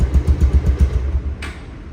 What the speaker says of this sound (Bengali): সাইলেন্সার থেকে মিষ্টি সাউন্ড হচ্ছে